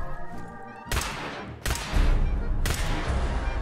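Laser pistol gunfire from Fallout 4 in survival mode, three loud bursts that stack into one another, each with a hard attack over a continuous rumbling game soundscape.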